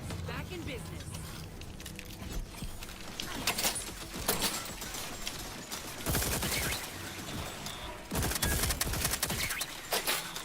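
Gun turrets fire in The Outer Worlds 2, with bursts of rapid gunfire and sharp cracks in several clusters among game sounds, close and loud.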